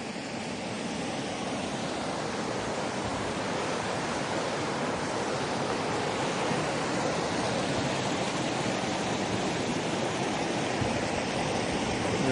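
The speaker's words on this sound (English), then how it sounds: "We're at the Cascada, the waterfall, Apatlaco." The Apatlaco waterfall in a national park near the Iztaccihuatl and Popocatepetl volcanoes in Mexico rushes as a steady, dense roar of falling water, continuous and unbroken throughout.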